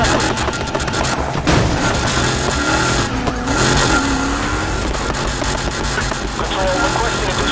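Reckless car driving in a police pursuit video game near a raceway: a loud, steady engine roar with tire skids and squeals over dense game noise, plus sharp bursts that could be gunfire.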